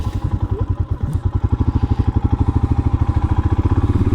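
A Harley-Davidson motorcycle with freshly adjusted valves rides along a green country road, its engine pulsing in a steady, fast, loud rhythm close to the mic, with no voices.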